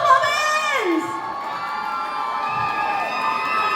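Crowd at a sangeet celebration cheering, whooping and shouting loudly and continuously, with high excited voices and a sustained roar throughout.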